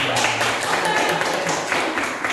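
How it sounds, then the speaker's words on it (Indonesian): Classroom applause from teachers and students at a school session on positive discipline, a steady dense clapping wash lasting throughout with some voices mixed in. "Tepuk tangan untuk kita semua"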